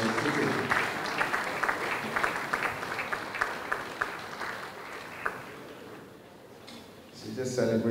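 Lecture audience applauds for several seconds, the clapping thinning out then briefly picking up again near the end, with some crowd noise mixed in.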